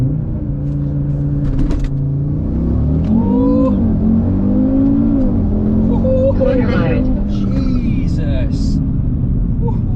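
A REVO Stage 2 tuned Audi RS3 8V2 held on the brake with throttle applied for a launch, its engine droning and rising in pitch up close while someone talks over it.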